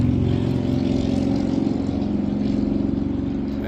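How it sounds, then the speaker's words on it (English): A loud motorcycle roars past close by, a continuous throaty engine drone holding strong for several seconds with no talk over it. "and a loud idiot on a motorcycle."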